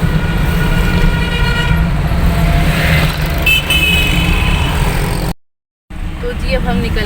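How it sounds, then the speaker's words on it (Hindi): Busy, congested road traffic on a city street, with a continuous loud rumble of cars and other vehicles close by and a few horn toots, running steadily under talk, then cutting out briefly before resuming. "लेकिन ट्रैफिक का हाल बहुत ज़्यादा बुरा वाला हो रहा है"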